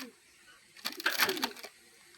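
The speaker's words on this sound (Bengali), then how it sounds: "এই যে কবুতরটা" A desi and Pakistani blood cross pigeon gives a short, soft burst of cooing lasting under a second, close by, amid quiet background noise.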